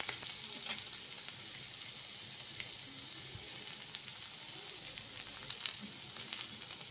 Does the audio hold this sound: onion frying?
yes